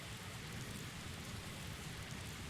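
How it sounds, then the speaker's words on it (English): Steady rain falls as a dense, even hiss with no break, from a podcast radio play, fairly quiet and with no other sounds over it. "now I'm here and there's rain sounds, and it's raining outside"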